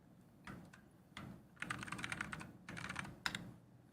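Keystrokes clatter on a computer keyboard while a command is entered in a terminal, coming in three short irregular bursts of clicks separated by brief pauses, close and fairly quiet with no voices.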